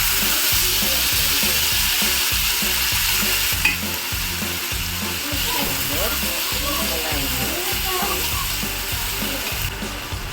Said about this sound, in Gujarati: તેલ ગરમ થાય એટલે આપણે એમાં એડ કરીશું રાઈ અને જીરું.